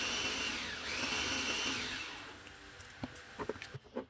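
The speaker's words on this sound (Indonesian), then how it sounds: "Chopper menggunakan speed paling tinggi atau speed 2. Ini kita mati nyalakan." Electric food chopper at its top speed grinding a sweet chocolate filling into a smooth paste, a steady high-pitched motor whir for about two seconds that fades away, followed by a few clicks and knocks.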